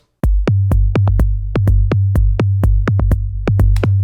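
A deep, booming synthesized 808 bass sustains under a steady pattern of punchy kick drum hits, loud and close, with no voices.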